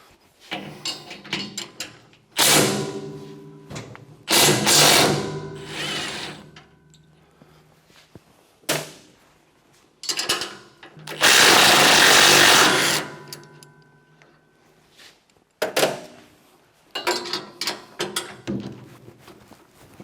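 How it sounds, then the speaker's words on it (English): A handheld impact wrench works the auger nuts loose on a MUSKOX snowblower, firing several short loud hammering bursts with pauses between, one long sustained burst in the middle, and quieter clinks and rattles of handling in the gaps. "I'm going to use my handy dandy impact here and see if I can break them loose."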